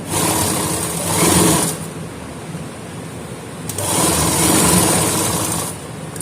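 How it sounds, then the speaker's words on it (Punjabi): A sewing machine stitching the round neck of a shirt runs in two loud bursts of fast, steady whirring, with a short quieter pause between them. "ਹੁਣ ਆਪਾਂ ਸਲਾਈ ਲਗਾ ਦਾਂਗੇ ਇੱਥੇ"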